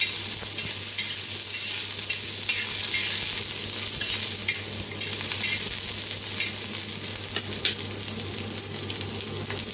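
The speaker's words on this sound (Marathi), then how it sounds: "त्याला मी भाजून घेऊया।" Ginger, garlic, green chillies and cashews roast in a pan, making a continuous close sizzle with frequent stirring scrapes over a constant low hum, no voices.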